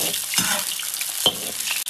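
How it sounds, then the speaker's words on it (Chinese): Scallion, ginger and garlic sizzle and fry in hot oil in a wok, a steady close crackle with a couple of sharper stirring scrapes, no voices. "葱姜蒜爆香"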